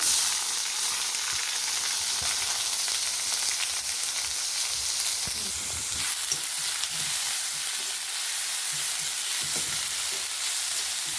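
Chopped onion fries in a pan of popping mustard seeds for ridge gourd sambar, giving a continuous bright sizzle with faint stirring scrapes and light crackles and no voices.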